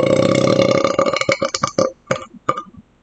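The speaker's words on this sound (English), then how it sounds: "I got a burp coming." A long, loud man's burp after eating Shin Red Super Spicy instant ramen, one drawn-out rumbling belch that breaks into a few shorter croaking bursts at the end.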